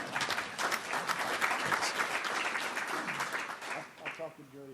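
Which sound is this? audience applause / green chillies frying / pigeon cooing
audience applause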